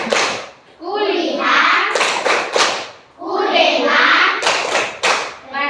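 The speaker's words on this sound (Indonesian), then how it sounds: "Tepuk tangan, fokus dulu. Tepuk fokus." Schoolchildren in an Indonesian classroom clap a rhythmic focus pattern. Sharp bursts of claps alternate with the children's loud chanting voices.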